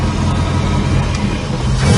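A 1970 Chevrolet Chevelle engine running, a loud steady low rumble heard close up with little change in pitch.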